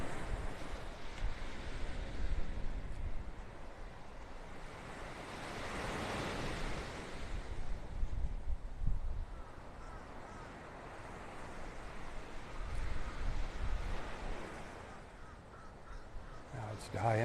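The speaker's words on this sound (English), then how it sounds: "You can see that breeze blowing the umbrellas there." Wind sweeps across a beach in North Naples, Florida, alongside the wash of surf: a steady broadband rush that swells and eases, with crows cawing now and then in the background.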